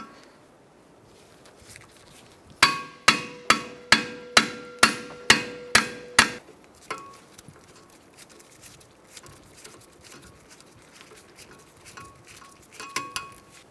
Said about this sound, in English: Now we're going to take out these 2 screws with a Phillips head impact drive.